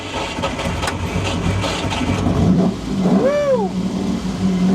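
A Ferrari 250 GTO-style car's engine cranks with the key and catches, then settles into a steady idle, with a brief rising whine as it revs a little.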